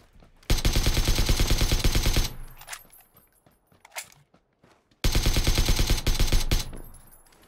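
Loud automatic gunfire in the PUBG battle royale video game comes in two long sustained bursts of rapid shots, separated by a gap of scattered single shots and faint footsteps.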